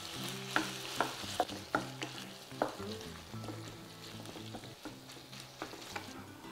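Ground beef fries in a pan with a continuous sizzle, broken by repeated sharp scrapes and taps of a utensil stirring and breaking up the meat, loudest near the start.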